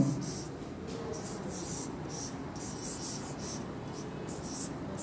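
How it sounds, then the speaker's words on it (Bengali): Steady scratchy writing on a classroom board during a geography lesson, a continuous rubbing stroke sound with faint rhythmic pulses, fairly close and alone without talk. "আমি একটু বোর্ডে একটু লিখে দিচ্ছি যেন একটা খেয়াল থাকে"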